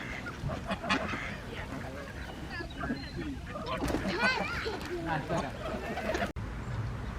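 Canada geese and greylag geese honking on a park lake, the calls mixing with steady background chatter of people nearby.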